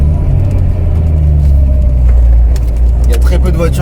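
A 1998 Honda Integra Type R with its 1.8-litre VTEC engine drones loudly from inside the cabin, a steady low engine rumble under road noise, while people talk over it.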